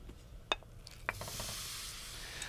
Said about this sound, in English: I have a large nonstick skillet here over medium heat,